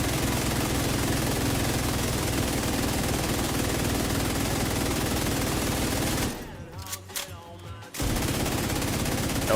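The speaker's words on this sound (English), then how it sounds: "you shoot some bullets" Sustained automatic gunfire in The Division 2, a dense continuous rattle of shots that drops out briefly near the end before resuming at full loudness.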